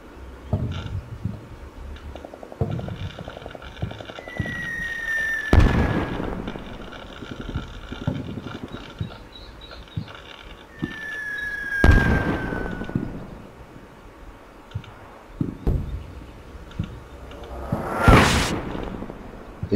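Single-tube mortar rounds in the Combat Mission Shock Force war game land one after another, each falling shell whistling down before a loud, sharp blast, with about three impacts spread over a quiet, windy battlefield.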